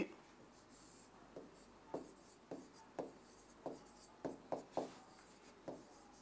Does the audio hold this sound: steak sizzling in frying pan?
no